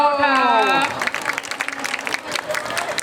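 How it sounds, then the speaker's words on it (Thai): Crowd at a public dance performance in Thailand applauds young dancers from a dance studio, with a voice speaking over a loudspeaker at first and then clapping and scattered cheers continuing. "อีกรอบขอเสียงปรบมือให้กับน้องจาก To Me Dance Studio"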